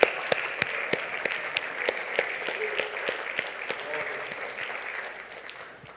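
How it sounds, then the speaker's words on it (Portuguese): A church congregation claps in a steady rhythmic beat, sharp repeated claps over a murmur of voices, fading slightly toward the end. "vamos bater palmas se querem bater"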